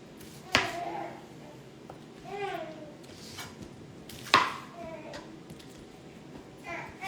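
A knife chops through the stems of Brussels sprouts on a cutting board, two sharp cuts about four seconds apart, with a fainter one near the end. Someone talks quietly and a child makes playful noises in between.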